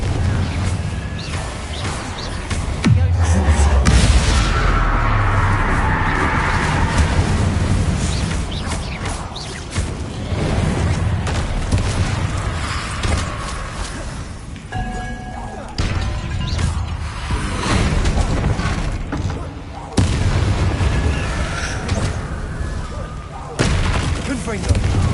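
Confringo fire spells in a Hogwarts video game blast and crash repeatedly with booming explosions and rumbling impacts, while a voice keeps calling out spell names over the din.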